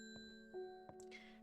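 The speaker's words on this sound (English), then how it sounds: "Let's ring the bell again." Bell chimes in the video game Strange Horticulture, a few bright ding strikes spaced apart over a steady tonal game background hum, moderately quiet with no talking.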